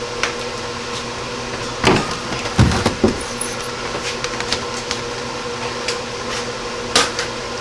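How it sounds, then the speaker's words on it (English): A car's hood is lowered and shut in a quiet garage, with a knock followed by a pair of solid metallic thuds midway, then scattered light clicks and taps against a low steady hum. "we'll take the light down so I can shut the hood"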